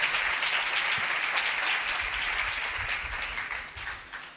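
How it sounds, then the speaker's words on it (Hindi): A church congregation at a sermon breaks into loud, dense applause that holds steady, then thins and fades toward the end. "खुदा के जलाल के लिए जोरदार तालियां बजाएं।"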